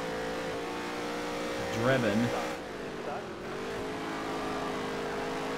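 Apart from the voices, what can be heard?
NASCAR race cars racing in a video game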